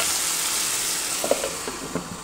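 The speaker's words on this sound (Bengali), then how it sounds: "চলো একটু ভাজা ভাজা হোক" Food frying in a pan: a loud, steady sizzle close by, with a few soft stirring taps near the end.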